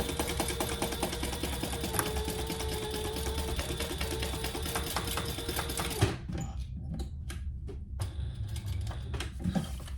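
A sewing machine stitches rows along the edge of a hot pink waist pack, a steady close mechanical whir running unbroken for about six seconds, then stopping and leaving a few faint clicks and handling noises.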